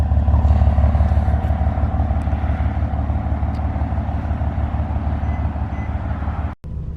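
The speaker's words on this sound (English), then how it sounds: "And you can hear the exhaust." A new 2018 BMW M3 Competition Pack's exhaust gives a deep, steady engine rumble with a throaty low drone for several seconds, loud and close, then cuts out briefly near the end.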